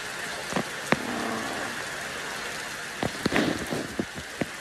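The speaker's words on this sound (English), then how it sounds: "Is it still raining" Steady rain patters across a surface, with occasional louder drops striking nearby; no voices.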